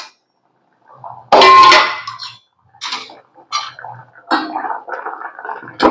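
A metal ladle knocks and scrapes against a pot of cooking dal in a home kitchen. Bright clangs and clinks come in irregular bursts, close and fairly loud, with short scraping stirs and quiet pauses between them.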